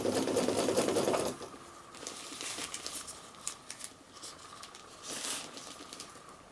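A sewing machine runs at a steady whir at first, then slows to short bursts and pauses as fabric for a utility bag is turned around a corner, with crinkling handling noises close by.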